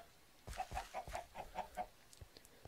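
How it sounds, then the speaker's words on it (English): A few chickens in a video game cluck in short bursts, a quick run of mid-pitched clucks followed by quieter scattered ones, with no talking. "Oh, there's chickens."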